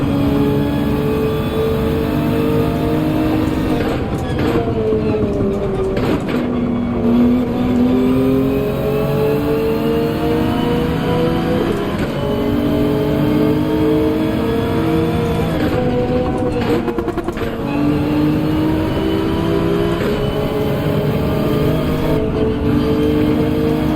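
A Subaru BRZ race car engine in Gran Turismo 7 drones loudly throughout, rising and falling in pitch through repeated revs and gear changes, with faint tire noise and no clear speech.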